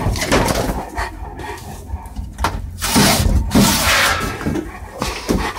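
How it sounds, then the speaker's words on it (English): Berner dogs push through a doggy door flap, giving a few loud clattering bangs and slaps of the flap mixed with scuffling paws and brief dog noises, close and irregular. "Who's gonna use the doggy door?"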